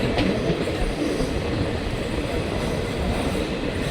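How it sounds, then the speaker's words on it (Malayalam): A Mangaluru–Thiruvananthapuram express rolls into Kasaragod railway station with a dense, continuous rumble of wheels and carriages, loud and close throughout with faint clattering in the mix. "ട്രെയിൻ കാസർഗോഡ് റെയിൽവേ സ്റ്റേഷനിലേക്ക് എത്തുകയാണ്"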